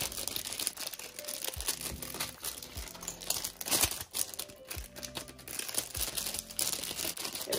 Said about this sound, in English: I'm just gonna put these in some cellophane bags